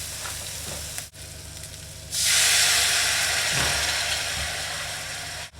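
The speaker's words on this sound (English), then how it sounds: "to deglaze off the bottom, we're just going to use a little bit of white wine to get all that colour off the bottom" White wine poured into a hot pan to deglaze it while lamb loin stuffing is being cooked on a Weber grill: a quiet background hum, then a sudden loud burst of hissing sizzle that slowly fades, with a brief clink at the end.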